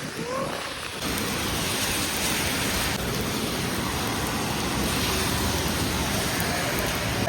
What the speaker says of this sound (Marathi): अरे मित्रांनो किती पाऊस पडते बघा